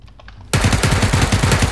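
Loud, rapid automatic machine gun fire from the video game PUBG erupts after a brief quieter lead-in and continues as a steady burst of close, repeated shots.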